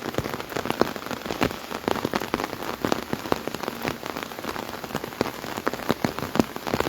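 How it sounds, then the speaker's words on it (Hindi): Heavy monsoon rain pours down in Shimla, a dense steady hiss of drops drumming on surfaces with frequent sharper spatters, continuous and fairly loud with no voices. "और अभी भी देखिए कितनी तेज़ बारिश का क्रम जो है वो शुरू हो गया है।"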